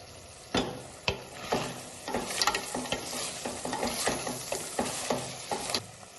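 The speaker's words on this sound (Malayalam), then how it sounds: "നന്നായിട്ടൊന്ന് മിക്സ് ചെയ്ത് കൊടുക്കാം." Kerala-style crab curry stirred in a pan: scraping, clattering utensil strokes in an uneven rhythm over a soft sizzle, close and moderately loud, with no talking.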